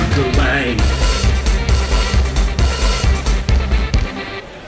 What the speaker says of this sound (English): I hope the jingle is over.